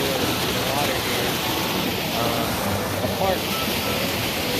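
Steady broadband rush of river water flowing around neoprene waders at Stone Mountain, North Carolina, a continuous close wash with faint gurgles and no clear pauses.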